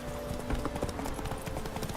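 Roach, the horse in the video game Witcher 3, gallops with a rapid, steady clip-clop of hooves, close and continuous throughout.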